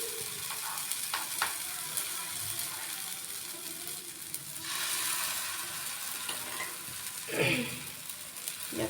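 Small potato chilla pancakes fry in an oiled pan, giving a continuous soft sizzle and crackle, with occasional scraping and utensil clicks close by.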